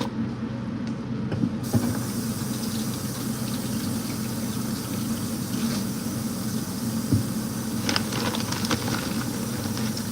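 Strawberries rinsed under a running kitchen tap, a steady broadband rush of water that stays constant and close throughout, with small splashes and clicks near the end.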